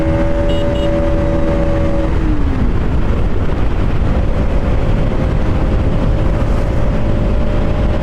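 A steady motorcycle engine drone in sixth gear with a falling tone as the revs drop, buried under loud, constant wind rush.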